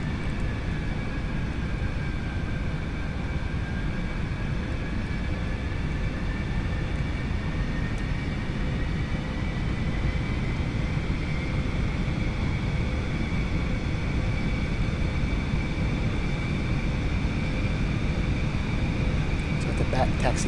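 An Aerobask Eclipse 550NG light jet taxis in the X-Plane 11 flight simulator, giving a steady, continuous engine whine and rumble with a faint rising tone throughout and no breaks.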